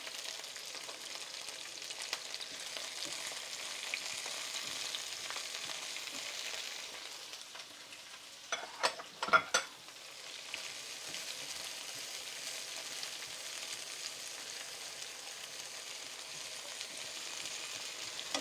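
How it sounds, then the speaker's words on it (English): Green onions and garlic frying in a pan, a soft, steady sizzle at low level, interrupted midway by a few sharp clinks and stirring sounds before the quiet hiss resumes. "So now we're going to add the green onions and the garlic."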